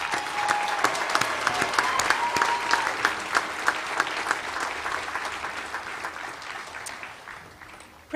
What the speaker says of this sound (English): We now applaud these graduates.